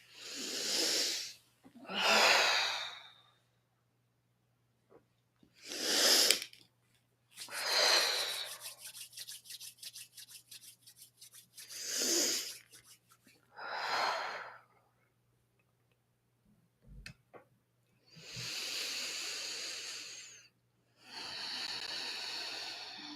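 Deep, slow breaths during a guided meditation, about eight long airy inhales and exhales separated by pauses, close and clearly audible over a faint steady hum.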